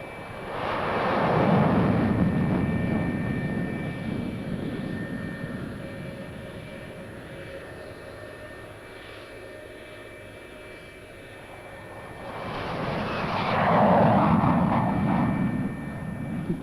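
Danish Air Force F-104G jet fighters on a 1970s quick-reaction-alert scramble roar past in two loud jet-engine surges, one early and one late, with a quieter rumbling stretch between them and no talking.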